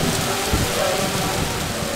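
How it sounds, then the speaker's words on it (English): Heavy tropical rain pours down steadily in Paraguay, a dense, loud wash of drops hammering surfaces with no break. "The music can't compete with the downpour"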